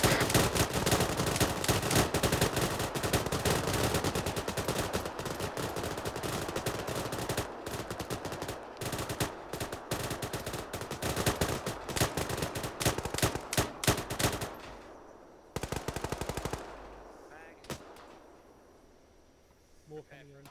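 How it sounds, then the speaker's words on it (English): Dense gunfire rattles in a military video game set in Chernarus during a peacekeeping campaign, rapid overlapping bursts for about fifteen seconds, then a few scattered shots as it fades toward quiet. "Hades, open fire, open fire."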